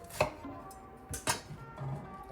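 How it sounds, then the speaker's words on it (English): A knife cutting the tops off a raw bell pepper and shaving out the membrane, with a few quiet, separate cuts and taps on a board, close but faint. "I just kind of go in there, cut off the tops, and then shave out that little membrane"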